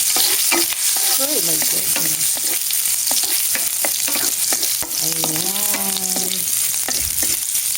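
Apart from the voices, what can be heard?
garlic frying and spattering in hot oil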